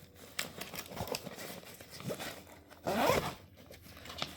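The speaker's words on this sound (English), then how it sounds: "Easy zip." A zipper on a Fyro T22 backpack pocket is zipped in several quick, scratchy pulls, close to the microphone, with short pauses between strokes and a longer, louder rasp near the end.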